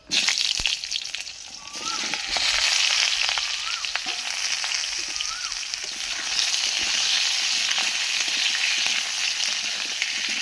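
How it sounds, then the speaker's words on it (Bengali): Panch phoron spices sizzle steadily in hot oil for a fish curry, a loud, continuous close frying hiss throughout with a few faint chirps over it. "মা প্রথমে 5 ফোড়ন দিয়ে দিল তেলের উপরে"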